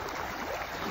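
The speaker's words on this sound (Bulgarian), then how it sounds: "Да послушаме успокояващия ритъм на морето" Sea waves washing in a steady, soothing rhythm, a continuous broadband wash of surf noise at even loudness throughout, with no voices.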